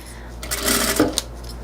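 A sewing machine runs briefly in a short burst, stitching along a zipper's edge on a fabric toiletry bag, a quick whir with a small click near the end.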